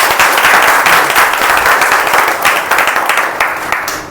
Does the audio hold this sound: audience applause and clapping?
yes